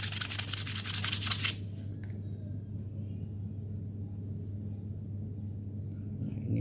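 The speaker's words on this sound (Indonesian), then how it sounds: "seminimal mungkin diamplas, jangan terlalu tipis banget, cukup sebagian saja amplasnya." Brisk rasping strokes of sandpaper rub against a Honda Beat FI motorcycle part for about a second and a half, then only a low background hum remains.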